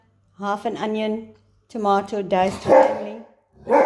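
A dog barks close by in a home kitchen, several sharp barks breaking in while a person keeps talking through a recipe.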